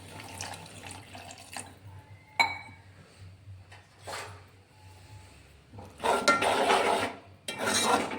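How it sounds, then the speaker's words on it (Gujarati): Water splashes and pours in short bursts into a pan, close and fairly loud, with quieter clinks and scrapes between. "એમાં નાખશું થોડું પાણી."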